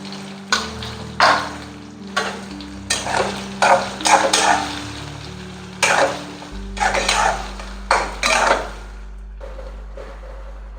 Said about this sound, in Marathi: आता मी दोडका थोडासा मसाल्यामध्ये फ्राय होऊ देणार आहे